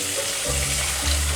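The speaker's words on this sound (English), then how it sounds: "Listen to that simmer." Food simmering and sizzling on a kitchen stove while supper of Salisbury steaks cooks, a steady close bubbling hiss with a few soft low surges and no talk.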